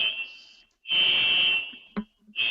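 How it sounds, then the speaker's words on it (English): A shrill electronic alarm sounds in loud, sustained high-pitched bursts with short gaps between them, cutting off and restarting close by. "Alarms."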